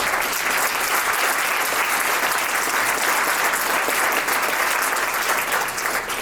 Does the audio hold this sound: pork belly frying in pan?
no